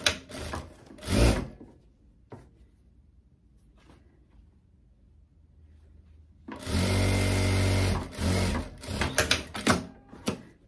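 A sewing machine stitches a trouser seam in two loud, steady runs, one brief and one longer with stop-start bursts near the end. A quiet stretch with faint handling and clicks separates them.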